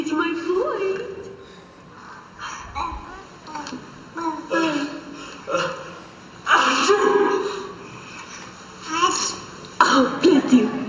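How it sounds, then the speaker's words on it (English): A father coughing or sneezing in the background during a home recording with a baby, with babbling and adult voices in between and several short, abrupt bursts of coughing or throat clearing. "you'll hear the father in the background sneeze or cough"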